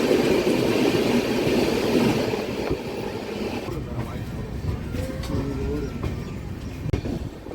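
An Uday double-decker train on the Coimbatore–Bengaluru route rushes past close by, a loud sustained rumble and wheel clatter that gradually eases, with faint voices underneath.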